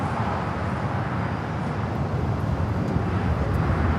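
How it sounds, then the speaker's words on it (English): Delta Airlines Airbus A350-900 jet airliner on its takeoff roll, a broad, steady, heavy engine roar with deep rumble that holds at a loud level throughout, with no voices over it. "Delta Airlines 389 taking off to Shanghai"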